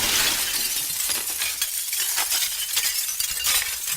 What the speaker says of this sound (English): Breaking like glass